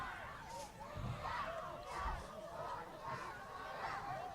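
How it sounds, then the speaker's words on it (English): Crowds cheer and shout at a high school football game between Grafton and North Middlesex, a steady distant roar of many voices swelling in waves. "Both crowds starting to get into it."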